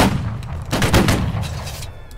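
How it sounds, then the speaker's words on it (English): Several musket shots at a battle reenactment, scattered cracks close together in a ragged volley with distant echoes, fading over about two seconds. "They're firing back at us."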